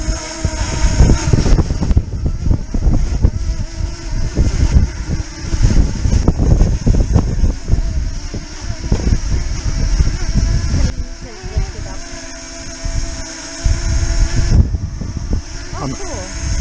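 Strong wind buffets the microphone outdoors on a snowy Sunday, loud gusty rumbling that rises and falls throughout, with a small drone's whine audible and a voice speaking at times.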